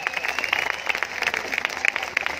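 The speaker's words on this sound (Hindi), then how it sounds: "एक बार जोरदार तालियां होनी चाहिए।" Audience applause at a gathering, a dense, continuous patter of many hands clapping at moderate volume for a short stretch, with no clear speech.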